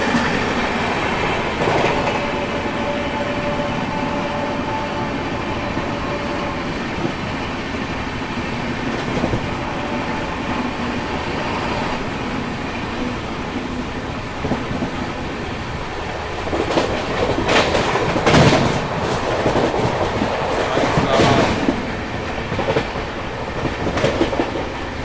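Vande Bharat train overtaking the Tamil Nadu Express, heard from onboard: sustained rail rumble with clickety-clack wheel rhythm and sharper rattling bursts toward the end, continuous for the whole stretch.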